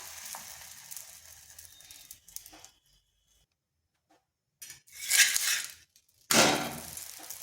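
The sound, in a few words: cauliflower paratha frying in oil on a hot tawa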